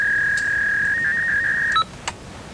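Fax machine connection tone: a steady, loud, high-pitched beep held for nearly two seconds, then a brief two-tone chirp and a faint click as it cuts off.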